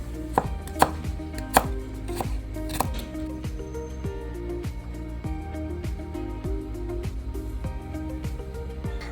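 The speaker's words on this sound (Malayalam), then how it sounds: "ചെറിയുള്ളി, ഇത് നമുക്ക് നീളത്തിൽ തന്നെയാണ് കേട്ടോ അരിയേണ്ടത്." A knife rapidly chops shallots lengthwise on a cutting board, sharp steady taps in an even rhythm, a few louder strikes at the start, no talking.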